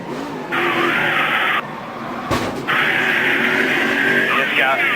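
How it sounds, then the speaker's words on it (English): A NASCAR Sprint Cup race car's engine roars at close range onboard and cuts out briefly as it is wrecked entering a short-track corner, then a loud tire squeal and skid follow, the engine note carrying on steadily. "he just got wrecked going into one, Matt."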